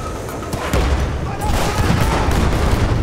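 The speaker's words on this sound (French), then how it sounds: "Une grenade pour eux." A grenade explosion and rapid gunfire in the video game Battlefield 6, a loud, dense burst of blasts and shots building in intensity, with a player voice heard through the action.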